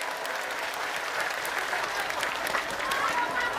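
An audience at a religious gathering in Taiwan applauds the Banser group, steady dense clapping from many hands, fairly loud and close, with no speech over it.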